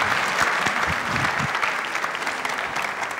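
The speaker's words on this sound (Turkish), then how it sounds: "Burada da hepinizin alkışlarınızla onu tebrik ediyorum." Studio audience at a 1996 Turkish TV talk show claps in a steady, dense burst of applause that holds at an even level throughout.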